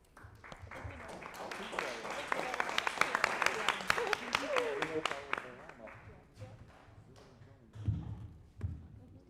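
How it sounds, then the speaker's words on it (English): Audience applause at a hackathon finals as a team is called up, with clapping, some talk mixed in, then fading with a few scattered claps near the end. "please, everybody, give a round of applause for Llama Goats"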